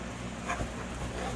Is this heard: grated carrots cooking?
no